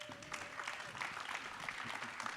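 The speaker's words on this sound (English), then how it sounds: "if you guys could join me in giving our panel a round of applause" An audience applauds a panel after a discussion session, a dense patter of clapping filling the room steadily throughout at moderate volume, with no talk heard over it.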